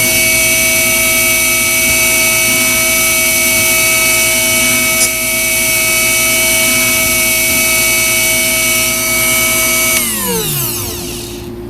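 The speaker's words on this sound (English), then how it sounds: "you'll hear how the grinder sounds against the drill bit itself" A bench grinder sharpening a drill bit whines steadily with a bright, high tone for about ten seconds, then spins down and fades as it is switched off.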